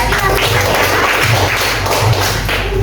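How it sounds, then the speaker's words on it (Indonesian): Classmates give a round of classroom applause for a fellow student, dense steady clapping from many hands filling the room at close range for a few seconds with no speech. "Oke, tepuk tangan dulu buat temannya."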